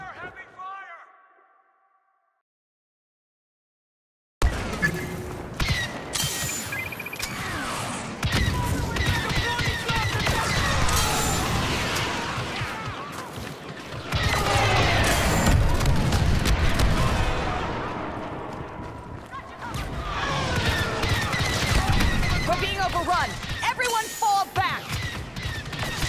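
Gunfire crackles through a Star Wars Battlefront firefight in the Battle of Naboo in Theed, loud dense volleys and blasts running almost continuously after a brief quiet start, with voices talking over parts of it.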